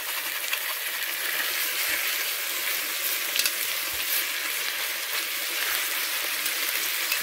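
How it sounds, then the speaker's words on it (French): Shallots are softened gently in a pan until they turn translucent, with no browning. A steady, even sizzle runs throughout with a few faint clinks, moderately loud and close, and there is no talk. "je ne veux pas les faire griller les échalotes, hein, c'est juste pour les faire fondre un petit peu"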